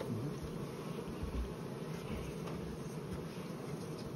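Honeybees buzz densely at an open beehive during a lime-tree nectar flow, a steady close swarm drone that holds at an even level throughout.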